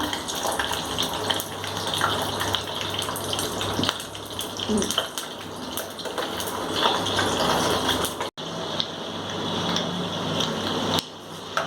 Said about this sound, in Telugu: పల్లీలు, తొక్క మినపప్పు వేగుతున్నాయి. నేను ఇప్పుడు ఆవాలు కూడా వేసేసుకుంటున్నాను.